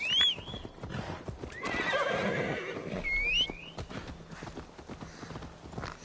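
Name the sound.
horse hooves clip-clop, video game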